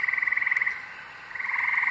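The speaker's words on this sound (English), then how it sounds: "the frogs, or whatever." Frogs croak at night outdoors during a campout, a dense, steady pulsing chorus of rapid repeated calls that dips briefly in the middle before swelling back to full strength.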